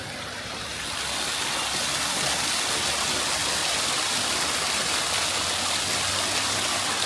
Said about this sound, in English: Could this be classed as a waterfall?